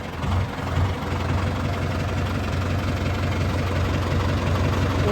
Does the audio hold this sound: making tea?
no